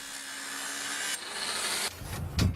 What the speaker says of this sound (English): With heavy machinery, hammers, and cutting saws, workers separate the concrete from the metal bars